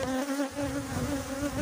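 A close, steady buzzing drone of honey bees in a hive, continuous and moderately faint throughout.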